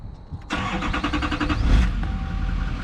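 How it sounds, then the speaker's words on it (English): A 2012 Duramax 6.6 diesel pickup cranks briefly and fires up, then settles into a loud, steady idle with a dip in the clatter near the end. "Truck fires up."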